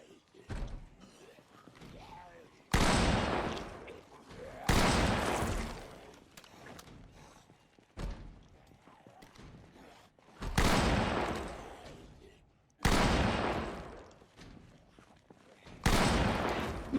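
Bursts of in-game gunfire from Project Zomboid, several loud, sharp volleys spaced a few seconds apart, each decaying into a quieter rumble between shots.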